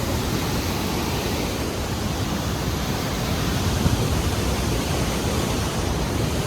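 A fast-flowing, cold mountain river on the route to Kedarnath rushes nearby in a loud, constant roar of churning water, steady and unbroken with no voices.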